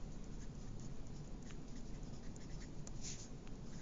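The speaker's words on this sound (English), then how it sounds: "just going to write that here" Faint scratchy strokes of writing on a board during a chemistry lesson, soft irregular marks under a steady background hiss, with no talking.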